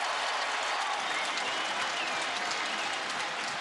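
Homecoming football crowd in a stadium at an Indiana versus Michigan State college game, a broad wash of cheering and clapping that holds steady throughout, distant and continuous with no clear voices on top.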